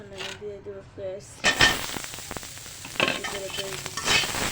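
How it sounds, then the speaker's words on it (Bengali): Onion pieces go into hot oil in a pan where garlic was just fried, bursting into a loud, steady sizzle with some stirring clatter; a voice speaks briefly before the frying starts. "এখন আমি দিয়ে দেবো পেঁয়াজ।"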